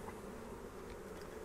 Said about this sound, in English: these are some nice bees